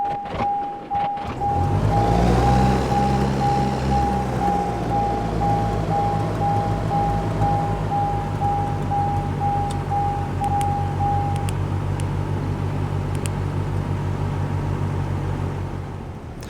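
A Cessna 172 NG Digital engine in X-Plane sputters to life after a brief crank, then settles into a steady, loud propeller drone with a constant tone that fades slightly near the end.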